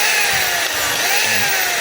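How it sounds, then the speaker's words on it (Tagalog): DeWalt hammer drill running in drill mode, a continuous high motor whine, steady and close, with no speech. "ito yung drill, hindi siya maingay."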